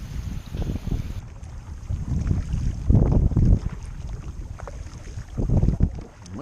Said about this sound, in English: Might be a little too windy here.